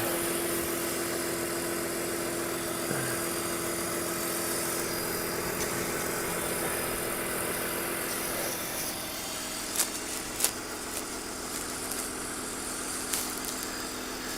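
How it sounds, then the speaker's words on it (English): A 2005 BMW 325Ci convertible engine idles on and on with a low rumbling drone and faint vibration, joined near the end by a few soft clicks. "I don't think we need the engine running anymore"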